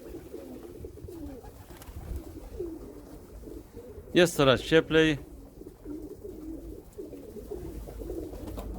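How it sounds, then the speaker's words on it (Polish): Pigeons coo in a short burst of several rhythmic, throaty calls close by, while a person talks quietly before and after. "Gołąbki są wesołe, gruchają."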